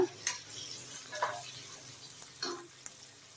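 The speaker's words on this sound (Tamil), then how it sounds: "இது கூட 2 தக்காளி சேர்த்துட்டு நல்லா வதக்கிடுங்க" Green chillies and tomatoes sauté in a pan for prawn biryani, giving a faint, soft sizzle with a few light stirring scrapes spaced a second or so apart, quiet and close, with no voices.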